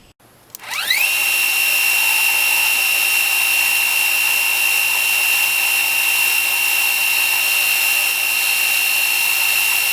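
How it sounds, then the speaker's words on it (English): An Atlas 7B metal lathe spins up to speed turning a dome, rising quickly to a loud, steady high-pitched whine with a bright tonal ring that holds unchanged to the end. "put a different collet in the lathe here"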